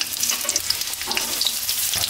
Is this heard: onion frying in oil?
yes